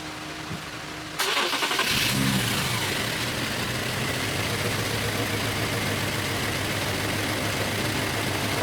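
A 2013 Infiniti G37 with a misfire cranks and fires up nearby, then settles into a loud, steady running rumble that continues to the end.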